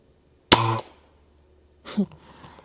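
A Weihrauch HW95-N air rifle fires a pellet with a single sharp, close crack that rings briefly, followed a second later by a softer thud.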